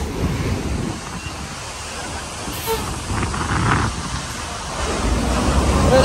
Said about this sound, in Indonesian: Kali ini ombak cukup tinggi